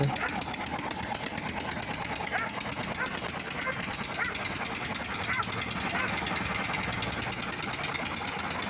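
A homemade diesel ZAZ-968M car fitted with a walk-behind tractor engine chugs along with a loud, steady, rapid knocking clatter that runs close and constant throughout, and someone speaks over the engine.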